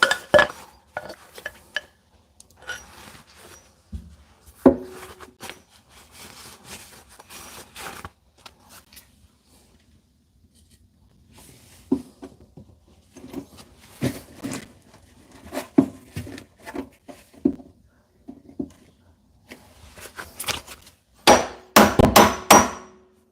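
Hammer and chisel breaking out material at a kitchen sink during a repair, with irregular metallic strikes and clanks in bursts and pauses, close and loud, building to a dense cluster of hard blows near the end, no talk.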